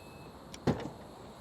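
The power tailgate of a 2025 Mazda CX-50 Hybrid opens with a brief, soft motorized whir and a mechanical clunk, close by and alone.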